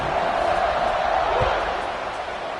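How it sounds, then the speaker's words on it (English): A football stadium crowd at Florida versus FSU keeps up a steady, dense roar after a touchdown, a broad wash of voices holding at a constant level throughout. "this crowd is buzzing after that last score"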